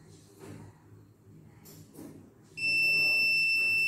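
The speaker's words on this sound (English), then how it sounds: "Now when he needs the assistant to come, he can switch on the buzzer." A buzzer on a patient call model switches on partway through, giving a loud, steady, shrill electronic tone that continues unbroken to the end after a few quieter moments of handling sounds.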